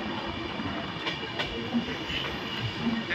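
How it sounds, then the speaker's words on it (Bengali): A train pulling into Chunar Junction station, heard as a steady rumbling rail drone with faint wheel squeal tones, fairly continuous and moderately loud. "গাড়ি আসতে পড়েছে চুনার জংশনে।"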